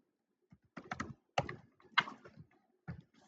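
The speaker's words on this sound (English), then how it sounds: "We're going to type in Arc'teryx," Quiet keystrokes tap on a computer keyboard in short irregular clusters, close and soft, with brief pauses between bursts, as a brand name is entered into a search bar.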